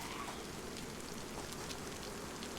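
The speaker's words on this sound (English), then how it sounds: "Oh good, it started raining." Steady rainfall patters in the survival video game DayZ on the Deer Isle map, a soft, even hiss of drops on surfaces, fairly quiet and continuous with no talking.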